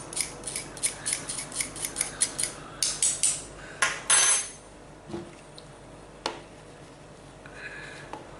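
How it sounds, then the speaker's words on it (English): A spoon pressing ingredients for Yorkshire parkin through a metal sieve, a quick run of regular scraping rasps that stops after a few seconds, then a couple of soft knocks and taps. "So they need to be pushed through the sieve. I'm using the back of a spoon."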